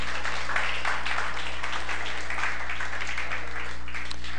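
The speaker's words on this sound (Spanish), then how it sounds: "Dele un fuerte aplauso a Jesucristo" A church congregation claps for Jesus Christ during a Spanish-language sermon, a moderate, steady wash of applause heard at some distance over a constant low hum.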